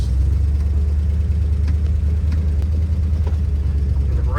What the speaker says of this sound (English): Hear the idle kick up real high?